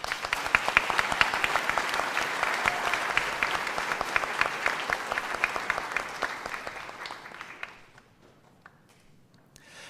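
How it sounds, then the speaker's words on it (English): Audience at a school band concert gives sustained applause, a dense wash of many hands clapping loudly for about seven seconds before fading quickly to scattered claps and near silence. "they deserve a round of applause."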